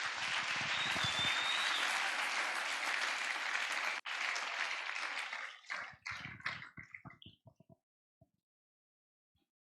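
Church congregation applauding loudly and steadily for about four seconds, then thinning into scattered claps that fade to silence.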